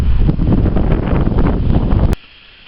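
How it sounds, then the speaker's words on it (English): Loud wind buffets the microphone in a rough, rumbling roar that cuts off abruptly near the end, leaving quiet. "oh, it's getting windy now"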